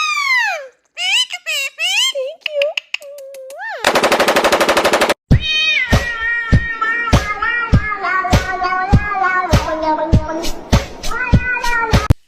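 Cats meow with rising and falling cries while playing with a bought toy, followed by a loud burst of rapid buzzing and then a long run of sharp, evenly spaced clicks or taps with tonal overtones, close and with no talking.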